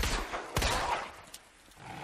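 Gunshots in Resident Evil 2 Remake, fired at dogs outside: a few sharp, loud reports in quick succession, the strongest near the middle, followed by fainter trailing shots and quiet game ambience.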